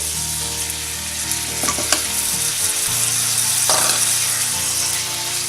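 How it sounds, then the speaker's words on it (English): A tablespoon of minced garlic sizzling in a hot pan, a dense continuous frying hiss with a few utensil scrapes and clicks in the middle, close and loud with no talking. "at this point I'm going to add my garlic, which that is 1 tablespoon of minced garlic."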